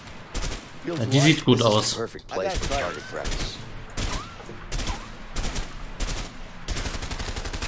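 Rapid bursts of gunfire from a weapon in the video game A Way Out, loud repeated volleys with short pauses between them, while someone talks over the early shots.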